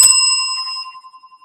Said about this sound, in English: So you get a bell for that, Leonard.